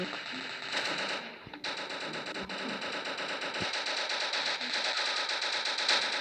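Sustained rapid automatic gunfire from a video game, dense and continuous, with a few brief pauses and heavier thuds mixed into the rattling bursts.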